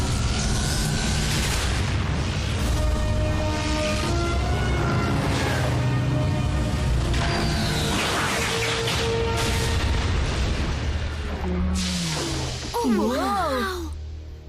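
An explosion in an animated Transformers episode, a dense rumbling boom with sustained roaring debris and dramatic background noise that stays loud throughout, ending in a warbling electronic whine.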